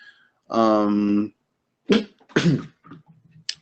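A single loud sneeze, followed by a few brief bits of nearby talk.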